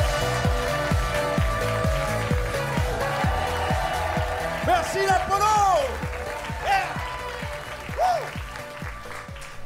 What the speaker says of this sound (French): Je vous demande de faire un tonnerre d'applaudissements pour Fouad.